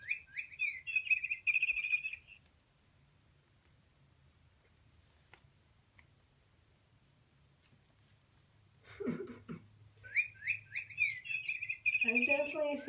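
A small parrot gives bursts of high, rapid chirping and squeaky calls at the start and again near the end, with quieter scuffling and a low indoor hum in between.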